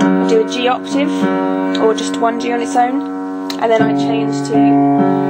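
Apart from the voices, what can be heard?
No everyday noise stands out behind the speech.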